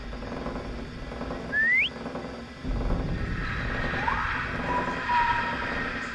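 A character in a video game whistles, with a quick rising whistle and then a softer falling one over a busy background of low rumbling game noise.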